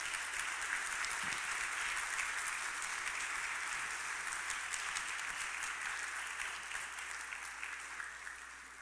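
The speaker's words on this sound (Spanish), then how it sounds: "Démosle un aplauso a ese gran Dios" A church congregation applauds together during a sermon, producing a continuous, even wash of many hands clapping at a moderate distance that holds steady and softens slightly toward the end.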